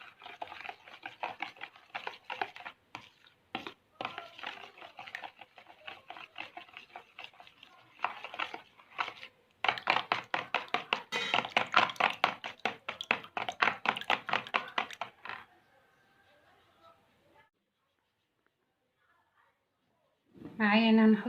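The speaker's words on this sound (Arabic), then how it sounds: "نقلب الحاجات دي كلها" A spoon stirring ingredients together in a bowl while preparing a cheap family lunch or dinner makes rapid, steady tapping and scraping strokes in long bursts with short pauses, with brief knocks and a pause near the end.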